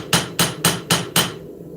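A hammer strikes an anvil mounted on silicone while forging a knife: five evenly spaced, close, sharp blows with short dull decays and no lingering ring, then quiet.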